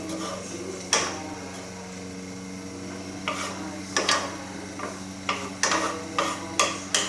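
Rutabaga sizzling in an uncovered pan on a stove top, a low steady hiss broken by repeated sharp clicks and scrapes of stirring, close and fairly quiet.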